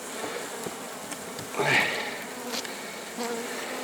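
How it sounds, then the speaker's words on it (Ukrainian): Honeybees hum in a dense, continuous drone close by at a hive, with one bee buzzing louder as it passes near. "Оце бджоли."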